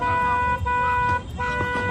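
A car horn sounds in sustained blasts with brief breaks, loud and nearby, while voices chatter underneath.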